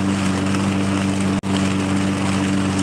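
A lawn mower mowing a yard, heard up close as a loud steady engine drone with a strong low hum that cuts out for an instant before resuming.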